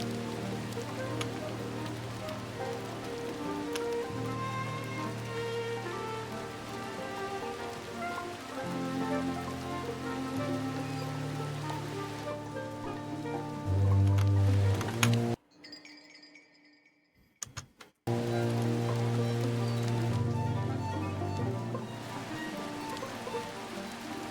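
Steady rain falls in the video game Midnight Walk, a continuous patter under a bed of game music. It cuts to near silence for a few seconds, then resumes at the same level.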